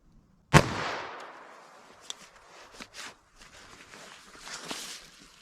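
A single sharp crack of a .22 Long Rifle shot fired into clear ballistics gel, followed by faint rustling and shuffling footsteps close by.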